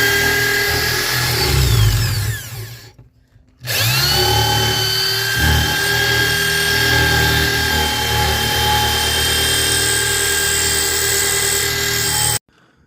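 Drilling holes in a Mustang's underside to mount a driveshaft safety loop: a loud, steady whirring power drill runs in two long bursts separated by a brief pause, with pitch settling as each cut progresses.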